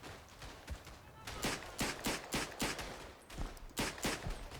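Rifle gunfire in the World War I shooter Verdun, about a dozen sharp cracks spaced irregularly over a few seconds, some close and loud, others farther off, with a steady rumble of battle underneath.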